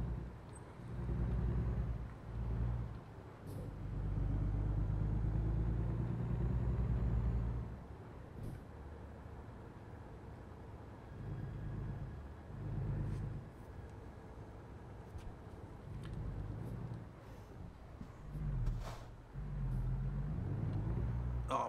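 A heavy truck engine in the video game American Truck Simulator rumbles low and steady for about twenty seconds, swelling and easing as it changes speed, with occasional short clicks and hisses over the drone.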